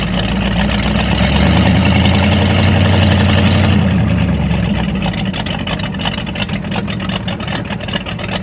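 A 1946 Ford 100 custom hot rod truck engine runs with a loud, steady low rumble that shifts partway through into a rougher, pulsing idle, with no voices over it.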